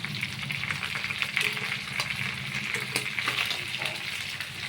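Chicken sizzles and spits in oil on a grill pan, a steady close frying hiss that holds through the whole stretch with no one talking.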